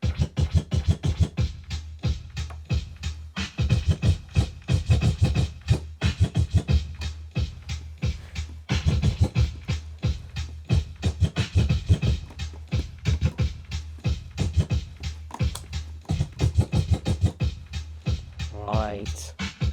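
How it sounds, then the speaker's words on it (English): Vinyl records being scratched on DJ turntables, two copies of the same song worked back and forth in rapid, choppy rhythmic bursts over a beat, with a voice briefly talking near the end. "People scratch because they were trying to find the start of the song"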